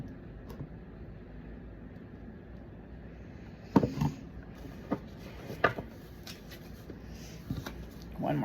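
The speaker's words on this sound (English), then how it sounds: "One more shuffle." Tarot cards being shuffled by hand, a quiet soft riffle followed by a few sharper bursts of card flicks and slaps, close and intimate, with no talk over it.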